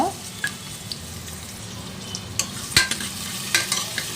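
Onions dropped into hot oil in a pan for sprouted-gram sambar sizzle steadily, with a few sharp spoon scrapes and clinks against the vessel standing out over the continuous frying hiss.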